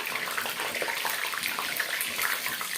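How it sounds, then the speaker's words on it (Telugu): Paneer cubes frying in oil crackle and spit continuously, a dense, close, even sputter that lasts the whole moment with no voices over it. "ఇందులో వాటర్ ఉంటుంది కదా అందుకే చిటపట ఉంటుంది"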